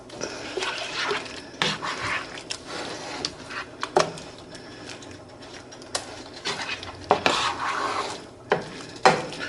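A spoon scrapes and rubs as corned beef with sazon and black pepper is stirred in a pan. Irregular rasping strokes come close up and moderately loud, with short pauses between them.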